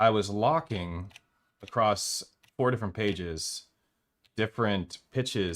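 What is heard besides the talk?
None of the usual background noises is heard.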